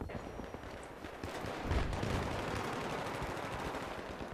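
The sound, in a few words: gunfire in the video game Battlefield 3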